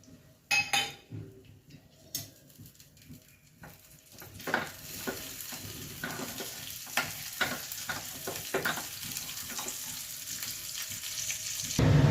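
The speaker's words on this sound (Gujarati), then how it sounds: "હવે આપણે એમાં બધો મસાલો, કારણ કે ઘી ઉગળતું જશે ને આપણો વઘાર તૈયાર થશે." Spices are added to hot ghee to make a tempering for Gujarati kadhi. A few clinks and quiet stirring come first, then a close, rising sizzle and crackle fill the second half.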